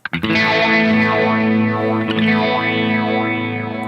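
Distorted electric guitar holds a sustained chord while a phaser's sweeping whooshing effect rises and falls in slow waves, loud and continuous.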